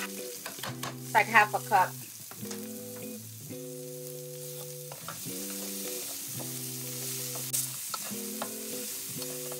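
Chopped onion sautés in the same pot used for one-pot chicken and rice, a soft steady sizzle with stirring scrapes, heard beneath a melodic music bed and a few spoken words.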